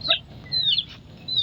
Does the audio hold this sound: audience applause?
no